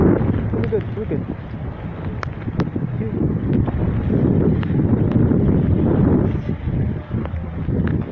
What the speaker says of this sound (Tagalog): Oh, lakas ng hangin, shit.